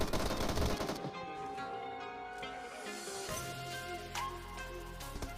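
Rapid gunfire in a mobile battle royale game firefight, dense bursts of shots with clatter throughout, loud and continuous over game ambience.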